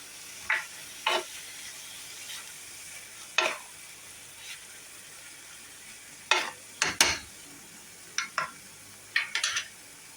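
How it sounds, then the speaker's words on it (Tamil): Green chilli and grated coconut being lightly sautéed in a pan for Kerala-style poosani koottu, a faint low sizzle punctuated by scattered scrapes and stirring clicks, quiet and close with no speech. "இந்த பச்சை மிளகாய் தேங்காய் பச்சை வாசம் போகிற வரை லேசாக வதக்கி விடுவோம்,"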